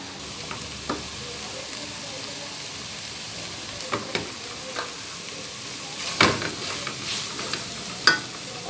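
Egg and chicken cook together in a pan as a samosa filling: a soft, steady sizzle runs throughout, broken by occasional sharp spatula scrapes and clinks against the pan, with no talking.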